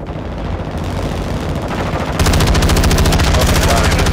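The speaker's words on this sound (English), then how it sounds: "Oh my god, there's so many shots right now." Call of Duty: Modern Warfare II gunfire on the Vondel resurgence map: a busy bed of shots, then from midway a loud, dense burst of rapid automatic fire, with a voice faintly underneath.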